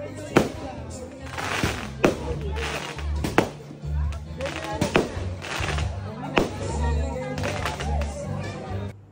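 Fireworks crack and pop in sharp bursts at a birthday celebration, several loud bangs spread across the clip over a busy crowd murmur and music-like hum.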